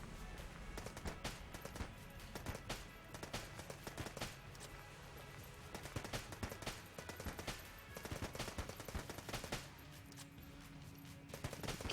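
Rapid machine pistol gunfire in the video game Enter the Gungeon, with dense, continuous bursts of shots that run nearly nonstop through the clip against busy game sounds.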